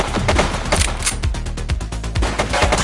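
Rapid gunfire in the police video game The Precinct, a loud burst of sharp overlapping shots and thuds crackling continuously at close range, with no talking over it.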